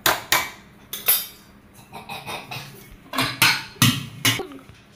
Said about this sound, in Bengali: এবার একটু নাড়াচাড়া দিয়ে দিলাম